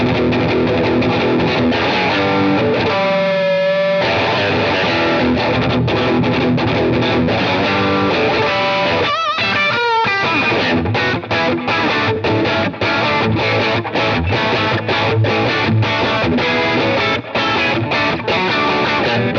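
Loud overdriven electric guitar, a Telecaster, playing continuously, thick and crunchy, with a brief break in the strumming near the middle before it surges back.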